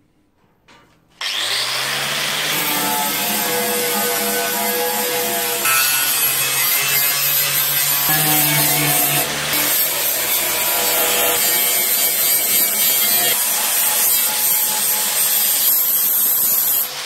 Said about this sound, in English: clean all this area up here with the flap disc